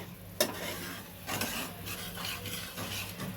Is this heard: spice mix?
yes